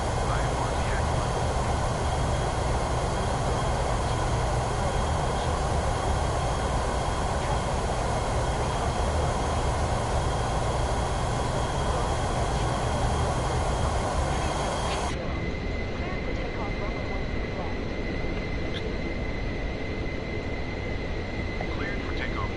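Horizon Air airliner taking off in Microsoft Flight Simulator 2024, a loud, continuous broadband engine roar that stays steady throughout and turns slightly duller partway through, with voices talking over it.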